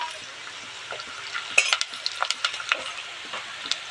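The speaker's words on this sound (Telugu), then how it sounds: "మనకు పచ్చిమిర్చి అయితే మంచిగా వేగింది" Green chilies fry in oil in a pan, a light crackling sizzle with scattered sharp pops and a few stirring scrapes, fairly quiet and close, with no voices.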